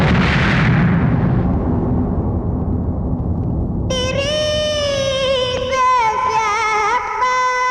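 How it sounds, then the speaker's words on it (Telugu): A bomb explosion effect opens with a loud, rumbling blast that fades over a few seconds, then gives way to bright tonal music. "ఇదేంట్రా గొబ్బెమ్మ పేలింది?"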